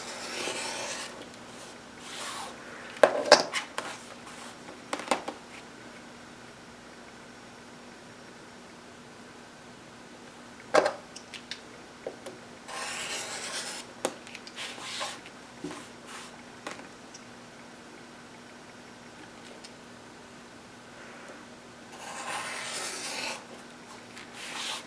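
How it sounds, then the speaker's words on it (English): Trimming a paper-pieced quilt block along the dotted lines of a template: soft scraping and cutting strokes come in scattered bursts over a quiet room hum, close but faint, with a few sharper ticks. "You can use the template to trim it on the dotted lines."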